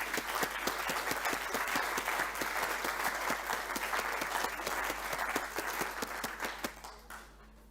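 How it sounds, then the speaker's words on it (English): Audience applause at a university graduation ceremony, a dense, steady clapping from a full room that carries for several seconds before fading out near the end. "Let's give another applause to Chris."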